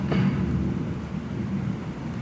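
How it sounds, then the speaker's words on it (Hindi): Heavy rain pours with a low rumble of thunder, a dense, continuous wash of sound with no voices. "बारिश बढ़ती जा रही है।"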